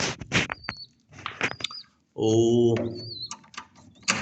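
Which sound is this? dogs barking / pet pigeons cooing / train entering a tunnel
pet pigeons cooing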